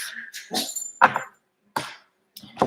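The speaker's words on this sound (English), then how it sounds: "My dog is barking and doing the most" A dog barks in several short, loud bursts indoors, with gaps of quiet between them and no talking.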